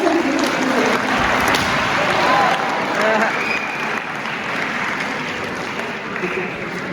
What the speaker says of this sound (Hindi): एक बार ताली होनी चाहिए